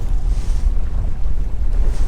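Steady wind gusting over the mic on a boat out on Lake Oneida during a drizzle, a continuous low rumbling roar with surging swells and a hiss of water, no talking.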